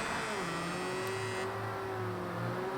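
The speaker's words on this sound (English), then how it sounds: "Racing round Brands Hatch in the snow" Race car engine droning steadily in snow at Brands Hatch in Project Cars 2, a continuous whine with shifting pitch and rising revs, close and loud throughout.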